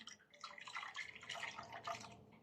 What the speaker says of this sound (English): We're going to take our melted wax and pour this into our hot pitcher now.